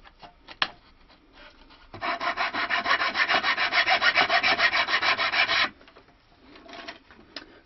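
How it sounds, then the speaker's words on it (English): A chisel levers and scrapes a wooden binding off a handmade stick dulcimer: a few light taps, then a rhythmic rasping scrape of steel on wood for several seconds, close and alone, ending in scattered soft knocks. "we simply lay the chisel on the other end, and we should be able to lever off"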